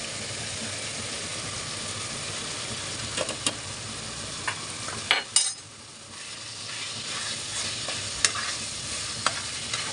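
Homemade tomato paste sizzles steadily in a pan for chicken kabsa, with close scraping stirs and occasional clinks of the utensil against the pan.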